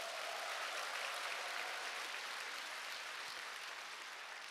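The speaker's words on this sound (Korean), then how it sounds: "자기 자신한테 큰 박수를 보내주시기 바랍니다" An audience at a sales seminar claps in a faint, steady, continuous wash of applause heard from a distance, with no talking.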